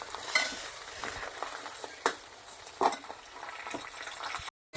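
Quiet, steady sizzling and bubbling of hot oil in a pan, with a few sharp clinks of a utensil against the pan.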